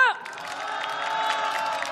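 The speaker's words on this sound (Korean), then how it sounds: "뜨거운 박수 부탁드리겠습니다" A crowd at a candlelight protest rally breaks into applause and cheering after a brief voice. Claps and scattered shouts blend into a steady, moderately loud wash.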